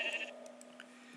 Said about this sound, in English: The sheep wants some love.